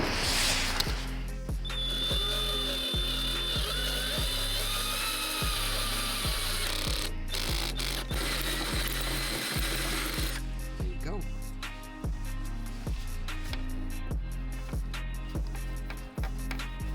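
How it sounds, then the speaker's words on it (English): A 1/4 drill bit boring a hole into a Jaguar headlight housing, a power drill whirring in repeated short bursts with a rhythmic ratcheting pattern and brief pauses, fairly close and loud. "We have to drill a hole inside of the housing to run the wires to the turn signals."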